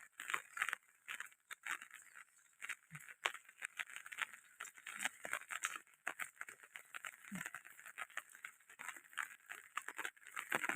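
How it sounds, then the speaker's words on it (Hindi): Rain patters steadily in Udaipur during a prolonged downpour, a dense, continuous crackling hiss of drops that is fairly soft and close, with no voices. "पानी अभी बरस रहा है, टम टम टम टम बारिश बरस रही है।"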